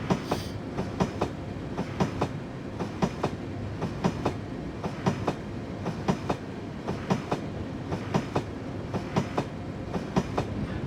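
A BR Class 31 diesel locomotive with vacuum-braked stock in Train Simulator, on the Riviera route in the 1950s, rolls along with steady, regular clickety-clack wheel beats over the rail joints, moderately loud and with no talk.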